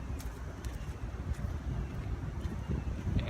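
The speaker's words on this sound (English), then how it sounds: "And it's windy right now" Wind blows on the Florida Trail near the Suwannee during a thru-hike, after a stormy night, with steady low buffeting rumble on the microphone and no talking.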